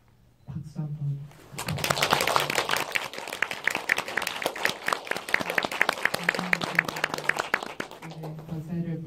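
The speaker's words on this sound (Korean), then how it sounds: "마지막으로 박수 한번" An audience at a film screening and talk for the movie House of Hummingbird breaks into sustained applause after a moment of speech, with dense clapping that continues for several seconds and fades near the end.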